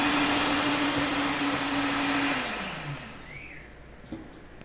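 An electric mixer beats birthday cake batter with a steady, loud whirring hum that then slows and winds down, fading to a quieter motor whine before a brief clink near the end.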